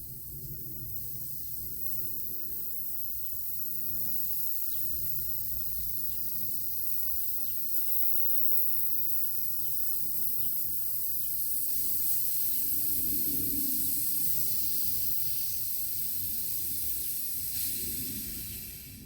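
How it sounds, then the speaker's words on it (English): Air hisses steadily out of a resin vacuum bubble-remover chamber as the silicone release valve is opened slowly, a constant close, even hiss lasting the whole time with little change. "Now this time I'm going to release this silicone bit slower, so the air comes out slower."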